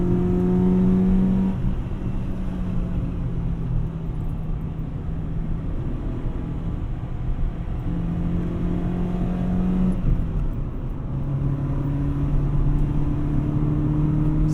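A 2003 Honda Civic Si accelerating through gears, heard from inside: engine whine rises in pitch, drops at each shift around the second and tenth seconds, then climbs again over a steady road rumble.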